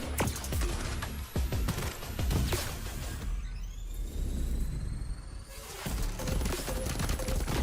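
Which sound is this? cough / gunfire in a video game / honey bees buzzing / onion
gunfire in a video game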